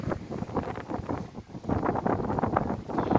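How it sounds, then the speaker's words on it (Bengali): Strong, gusting wind roars steadily against the microphone, surging louder toward the end, with no voices. "এমন বাতাস দিচ্ছে যে কি বলবো, নিয়ে চলে যাচ্ছে"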